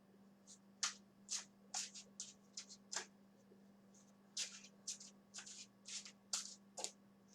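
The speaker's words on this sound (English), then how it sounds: "so I've shuffled the deck" A deck of Ogham divination cards being shuffled by hand, a rapid series of crisp riffling bursts with short pauses between them, close and clear over a low steady hum, no talk.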